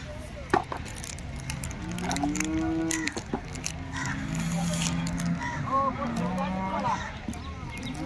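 Dairy cows at a cattle market moo in long, drawn-out calls, several overlapping at moderate distance, with occasional knocks and people talking in the background.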